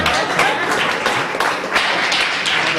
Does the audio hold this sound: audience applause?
yes